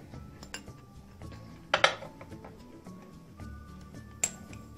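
Metal and glass clink and ping as a teaspoon of ginger is added to a homemade cough remedy mixture, with scattered light taps and two sharper chimes standing out against quiet kitchen background.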